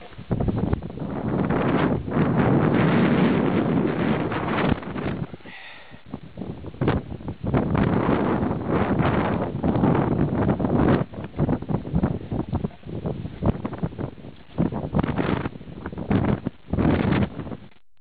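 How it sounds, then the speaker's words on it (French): Strong wind buffets the microphone in loud, rough gusts at Hoven on Gimsøya, Norway, with a brief lull partway through before the roaring blasts return. "Je repasse dans le vent."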